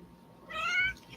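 A house cat meows once, a clear, close, drawn-out call with a rising then falling pitch over faint room noise.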